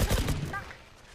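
Rapid gunfire in a video game, a dense burst of shots for about half a second that fades quickly, heard loud and close.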